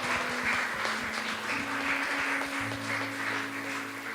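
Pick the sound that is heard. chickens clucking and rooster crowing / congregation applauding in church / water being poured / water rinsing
congregation applauding in church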